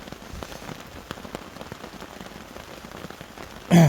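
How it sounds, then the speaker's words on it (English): Rain falling steadily on a tarp at a woodland camp, a dense patter of close drops with scattered louder taps, ending in a brief louder thump. "the old rain's coming down proper now"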